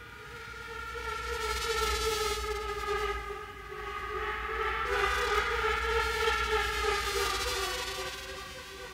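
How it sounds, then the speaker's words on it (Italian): A steady droning buzz from many bees in a beehive, swelling and easing gently over several seconds, with no other sounds around it. "Ronzio d'alveare."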